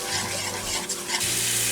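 Butter, flour and milk being stirred together in a hot skillet, a steady scraping stir over a continuous close sizzle with no talking.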